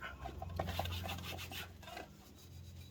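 A rag rubs over a part of a tow-behind boom lift during servicing, a soft close scuffing and wiping that fades out after a couple of seconds.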